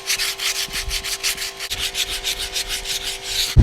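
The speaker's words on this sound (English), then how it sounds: "I'm just going to take some 60 grit and get the rough stuff off." Rough rhythmic sanding of a pitted tire rim with 60 grit sandpaper, fast back-and-forth strokes, loud and close, ending with a sharp knock.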